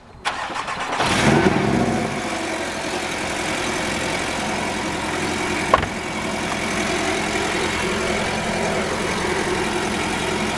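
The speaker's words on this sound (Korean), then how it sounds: "엔진음이 엔진음을 바로 들어봅시다" Porsche 718 Cayman S engine cranks over and starts, flaring briefly before settling into a steady, loud idle, with one sharp blip partway through and no talking.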